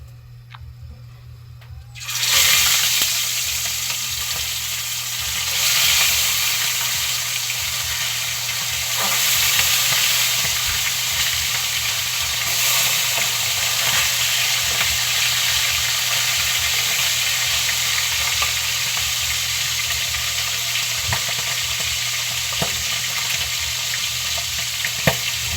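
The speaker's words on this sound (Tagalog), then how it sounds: "pwede na natin prituhin." Food dropped into a hot pan of oil bursts into a loud, steady sizzle that settles into continuous frying hiss, close and unbroken with no talking.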